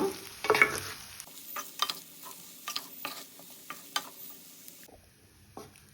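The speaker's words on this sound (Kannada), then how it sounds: "ಎಲ್ಲ ಒಟ್ಟಿಗೆ ಫ್ರೈ ಮಾಡ್ಕೊಳ್ಳೋಣ, ಮಿಕ್ಸ್ ಮಾಡ್ಕೊಳ್ಳೋಣ." Rice with chilli flakes is stir-fried in a pan, a soft sizzle under repeated scraping and tossing strokes of a spoon against the pan, close and uneven in rhythm.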